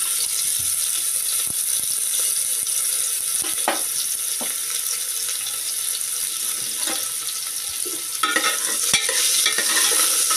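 Half a finely chopped onion sautéing in a pan, a steady broadband sizzle with scattered spatula scrapes and stirring clicks, growing a little busier near the end, close and moderately loud with no voices.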